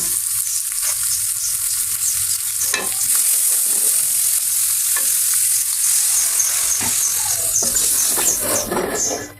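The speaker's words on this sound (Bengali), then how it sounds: "এখন মশলাটা অনেকক্ষণ ধরে কষিয়ে নেব" Spice masala sizzles and fries in a pan while being stirred, a steady close hiss running throughout with occasional scraping strokes of the spoon, no talking.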